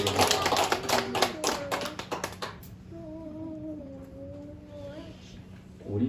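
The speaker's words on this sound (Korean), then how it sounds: "하나님 영광 돌리고 박수 드립니다." A church congregation claps together during a Sunday morning worship service, a burst of dense applause that fades after a few seconds, followed by a voice speaking alone.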